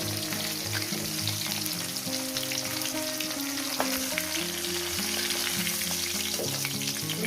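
Pieces of shol fish fry in a pan until reddish-brown, a dense, loud and steady sizzle with constant crackle and a few brief clinks, and no voices.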